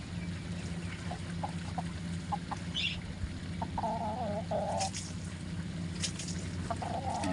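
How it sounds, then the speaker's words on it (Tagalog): A rooster gives a few short clucks and low warbling calls over steady outdoor background noise, fairly faint, while being shown by its handler in a rural yard. "Ayan, napakaganda pong manok niyan."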